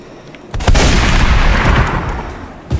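Gunfire in the Roblox shooter Strucid: a dense burst of loud, close shots after a short quiet lead-in, running nearly continuously for about two seconds with a final sharp shot at the end.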